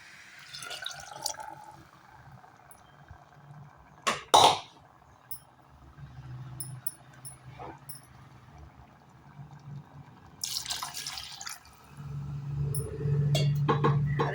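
Water is poured into a pot of country chicken curry as it cooks. Scattered drips and splashes come first, then a steadier, louder pour close by toward the end, with no talk.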